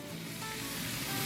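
Pork belly going back into a stir fry of onions and peppers, a soft steady sizzle in the pan ending in a brief sharp clink or crackle, fairly quiet throughout.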